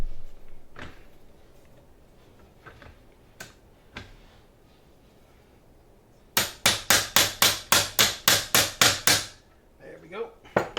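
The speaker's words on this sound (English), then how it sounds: "Sometimes you have to take a little rubber hammer to them to get them started the first time." A small rubber hammer taps parts into a PSA Stealth AR lower receiver: a few scattered light knocks, then a quick run of about a dozen sharp, evenly spaced strikes, close and loud, with a faint voice in the background.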